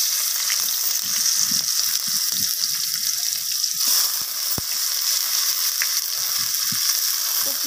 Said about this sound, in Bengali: তো পেঁয়াজটাকে আমি ফোড়নের সাথে একটু হালকা বাদামি রং ধরে আসা পর্যন্ত ভেজে নেব।